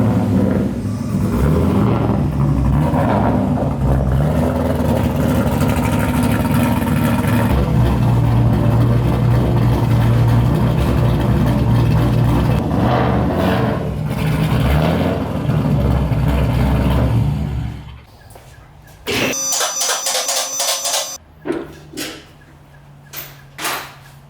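A Mazda Miata fitted with an LS V8 engine rumbles loudly and steadily up close as it is driven back into the garage, then the engine cuts and a few shorter bursts of noise follow.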